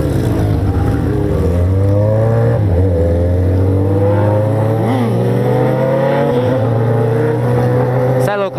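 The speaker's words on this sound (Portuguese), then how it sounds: "a moto só de acelerar ela já sobe" A motorcycle engine revs up loudly and steadily, its pitch climbing through long accelerations, close by with continuous roar.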